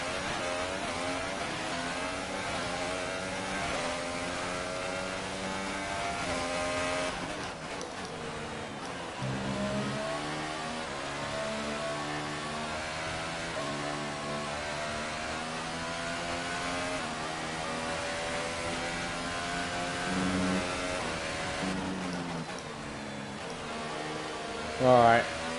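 Race car engine in F1 2018 during a career-mode lap, a continuous high-pitched whine rising and falling through gear changes, loud and steady throughout with occasional talk over it.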